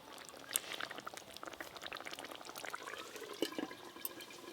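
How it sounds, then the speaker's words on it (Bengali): Falui fish curry simmers in a pan, giving quiet, irregular bubbling and soft popping plops close by, with a few sharper bursts along the way. "দেখুন ভেতরে যে ফুটছে, গুটগুট করে আওয়াজ পাওয়া যাচ্ছে।"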